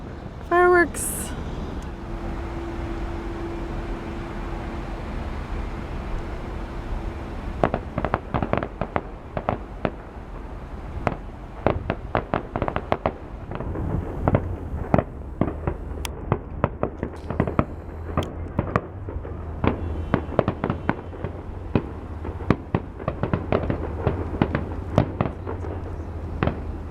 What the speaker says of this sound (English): Here we go! Fireworks!